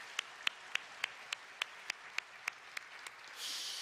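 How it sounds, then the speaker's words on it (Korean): During a Korean Sunday church service, a congregation claps faintly in a steady, evenly spaced beat of about a dozen crisp claps, ending in a brief hissing wash of clapping. "우리 웃음소리 중창단 다시 한번 감사의 박수하겠습니다."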